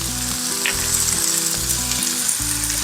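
Chopped green chilies, curry leaves and garlic cloves frying in a pan for pumpkin-peel chutney: a loud, continuous close sizzle with a low hum running underneath and faint stirring.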